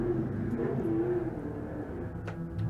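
A SMEG race car circles the Taupo circuit during an endurance race, its engine a steady distant drone with faint rises in pitch, heard alone without talk.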